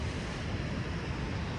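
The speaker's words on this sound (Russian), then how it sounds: "холодное Каспийское море" Waves of the cold Caspian Sea in winter in Dagestan wash in as a steady, loud broadband roar mixed with wind buffeting the microphone, continuous throughout with no speech.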